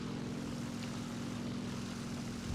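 Steady, droning propeller-engine hum from a Ki-44-II fighter in War Thunder, running continuously at low level without pauses or speech.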